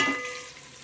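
A short burst of frying sizzle as chopped coriander is sautéed in a pan for chicken biryani, steady and close, fading slightly as it is stirred.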